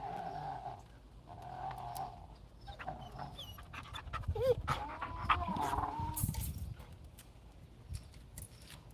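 A large dog pants steadily up close through most of the stretch, with a few hoof-like clopping and rustling noises around it and a person's voice speaking softly at times.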